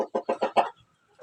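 Broody hen clucking close by, a run of five quick, evenly spaced throaty clucks followed by a pause and one softer cluck.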